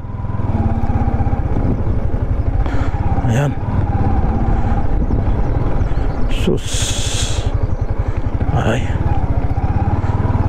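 A motorcycle rides a rough rural road between villages in Tarlac City, Philippines, with its loud engine droning steadily close by and bumps and rattles along the way. A rider talks briefly over the engine.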